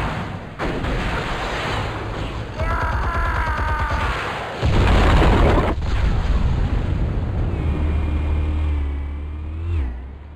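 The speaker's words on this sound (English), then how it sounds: "Explosives armed. Fire when ready." Explosives detonate in the Batman Telltale Series game, with deep booming blasts and rumbling debris that swell loud midway, then a lingering low roar and a whining tone that fade near the end.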